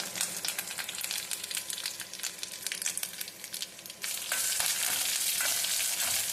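Dried red chillies and curry leaves sizzling in hot oil, close and loud: a crackling fry with stirring scrapes, then a sudden surge into a louder, steady hiss, no voices.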